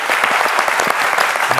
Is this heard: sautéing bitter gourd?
no